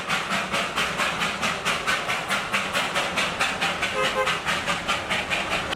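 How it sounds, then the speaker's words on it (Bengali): A Kolkata–Guwahati special train runs steadily at night, its wheels beating a regular clickety-clack rhythm over the rails under a continuous rumble and hiss, loud and close throughout. "আমাদের ট্রেন কলকাতা স্টেশন থেকে ছাড়লো রাত 9:40।"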